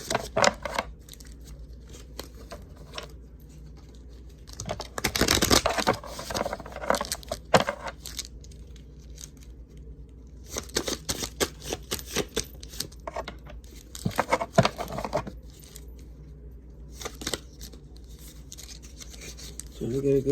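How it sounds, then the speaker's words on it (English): Bursts of riffling and snapping cards, a tarot deck being shuffled again and again with short pauses in between, close up. "Trying to get a good shuffle without losing the whole deck."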